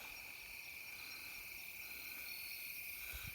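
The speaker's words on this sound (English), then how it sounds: "just record these crickets" Crickets chirping outdoors at night, a steady high continuous trill with faint insect buzz behind it, constant and unbroken throughout, no talking.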